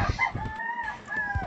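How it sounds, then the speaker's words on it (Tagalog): A rooster crows once, a loud, drawn-out cock-a-doodle-doo heard fairly close by, with some low thumping handling noise around it and no talk. "May manok pa."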